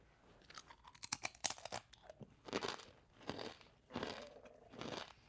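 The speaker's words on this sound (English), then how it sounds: "It's a very satisfying crunch." Pimento cheese kettle potato chips with hard, bubbly surfaces crunch between the teeth up close, a run of sharp bites and chews in quick bursts, then slower grinding crunches in several clustered waves, with no talking.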